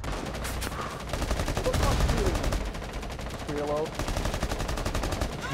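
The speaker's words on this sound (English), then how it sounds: "this is the fucking worst gunfight I've ever seen in my life" Rapid gunfire crackles through a chaotic video game gunfight, with bursts of automatic shots overlapping and a faint voice briefly heard amid the dense, loud shooting.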